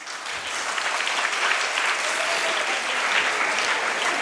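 An audience at a Kannada lecture on stage bursts into continuous, loud, dense applause that stays steady throughout, with no voices heard above it.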